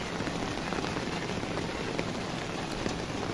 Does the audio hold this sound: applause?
no